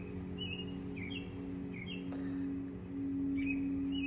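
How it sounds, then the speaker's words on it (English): A bird sings outdoors from somewhere overhead, repeating short chirping phrases at a moderate distance over a steady low hum. "a beautiful singing bird above me just now"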